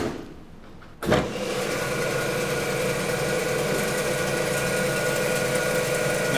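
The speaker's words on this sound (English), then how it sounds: "move our lamb over to our bandsaw" A butcher's bandsaw for cutting a lamb carcass starts abruptly after a second of near quiet, then runs as a steady, fairly loud mechanical hum and whine with no talk.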